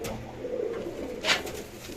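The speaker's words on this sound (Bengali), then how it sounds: "আপনারা এখন দেখতে পাচ্ছেন এখানে একজন সিলভার লাহোরি কবুতর" A silver Lahori pigeon, one of a pair in a loft, coos softly and low over steady background noise, with a brief rustle or knock midway; faint and close.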